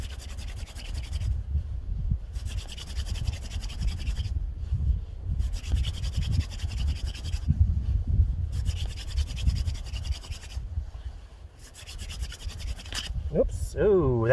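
A hand-drill spindle spins on a hearth board in snow with rhythmic, raspy scratching and rubbing. Several bursts are separated by brief pauses, heard up close with heavy breathing.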